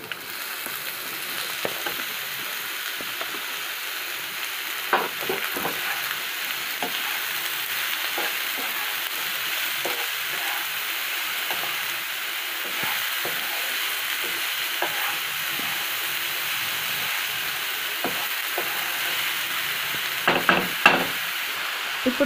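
Ridge gourd pieces sizzle and fry in a pan with onions and chana dal for an Andhra-style curry, a steady hiss under scattered scrapes and taps of a stirring spoon, with no one speaking.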